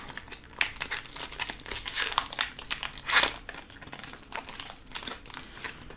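A Pokémon Duo de Choc booster pack wrapper being torn open: continuous crinkling and crumpling of foil plastic with one louder tearing rip midway, close and alone.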